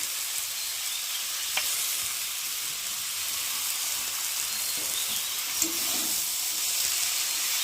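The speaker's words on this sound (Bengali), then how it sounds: "চলো একটু ভালো করে ভেজে নিই।" Masala spice paste fries in oil for a banana-flower dish, giving a steady close hiss and sizzle with occasional light clinks of stirring, and no talk.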